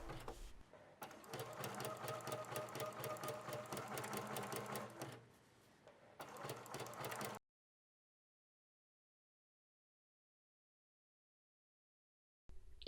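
A sewing machine runs in steady bursts, stitching jersey swimwear with two rows of narrow zigzag, pausing briefly between runs before stopping and falling silent.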